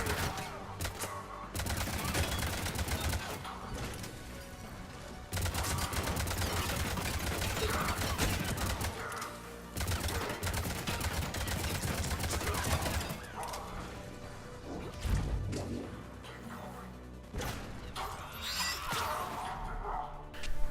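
Sustained gunfire during cover-based combat in the Mass Effect 3 video game, with dense, continuous bursts of shots and crashes at steady loudness throughout, briefly easing in a few spots before resuming.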